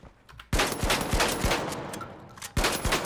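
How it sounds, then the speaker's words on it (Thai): Pump-action shotgun firing in the video game The Finals: several heavy booming blasts spaced apart, loud and close, with a pause before the last shot. "อันนี้เป็นลูกซองชักมันจะยิง4นัดแล้วมันต้องชัก"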